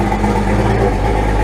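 An outboard motor runs steadily at low speed with flush muffs attached, a loud, close, continuous rumble with no revving and no voices.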